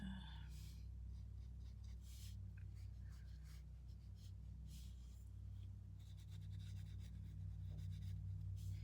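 A pencil or marker scribbles across paper in quick scratchy strokes that come in bursts, soft and close, over a low steady hum.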